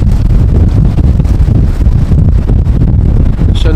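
Strong storm wind at Amsterdam Schiphol airport roars and buffets the microphone in a loud, continuous rumbling gust with no pauses.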